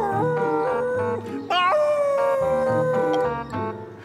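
A cartoon dog howls loudly in long, wavering tones, breaking into a higher yelp partway through before the howl carries on, with no talk over it.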